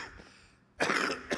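An elderly man coughs during a 2017 commencement speech at Purchase College. A quiet stretch comes first, then two sharp, close coughs that sound like rough throat clearing, the second shorter than the first.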